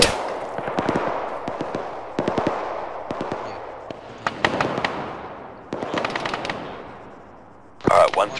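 Heavy gunfire in the Arma 3 video game: bursts of rapid automatic shots and scattered single cracks with echoing tails, some near and some distant, with a voice speaking over them.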